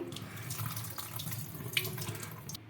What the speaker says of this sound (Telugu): చూడండి ఇంకా వాటర్ అయితే వంపేస్తున్నాను